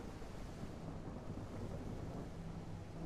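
Storm ambience in the horror game Mothman: a faint, steady low roar of wind and distant thunder rumble, continuous and without distinct claps.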